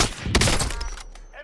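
Enemy gunfire in Call of Duty: Warzone, a loud close burst of several rapid shots with sharp cracks, fading into a ringing tail as the firing stops.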